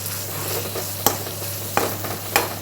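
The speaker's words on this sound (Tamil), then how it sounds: "நல்லா மிக்ஸ் பண்ணிக்கோங்க." Spleen fry sizzles steadily in oil in a pan, with three sharp clacks of a spoon stirring against the metal spaced about a second apart.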